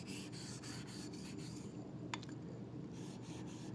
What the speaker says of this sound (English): make sure you're keeping that whole edge on the stone